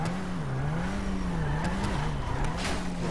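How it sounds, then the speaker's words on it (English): A Nissan R34 GTR drifts in GTA 5, its engine holding a wavering drone through the slide while faint tire squeals flare up briefly over it. "we're gonna do a serious drift right now"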